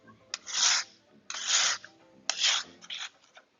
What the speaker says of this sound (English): I use my bench scraper, pull it up